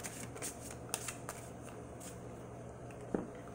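Tarot cards being shuffled by hand in soft, close riffling and sliding bursts, quiet and uneven, with a sharper tap near the end.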